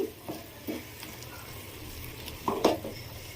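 A spoon stirs ghee-rich Bombay Karachi halwa in a pan, with soft scraping strokes and a gentle sizzle, building to a couple of louder, close scrapes near the end.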